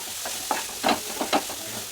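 Grated carrot with ginger garlic paste, turmeric and salt is stirred in a pan for carrot rice, a soft continuous sizzle with a few brief scraping strokes of the spoon.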